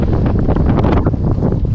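Strong sea wind buffets the microphone on a kayak fishing outing in open water, producing loud, continuous gusty rumble and flutter throughout, with no voices.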